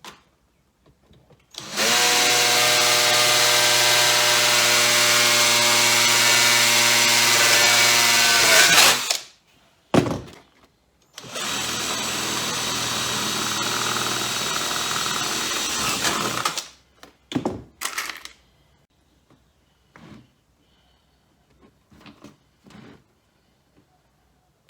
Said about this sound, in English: whilst I get the first few rivets in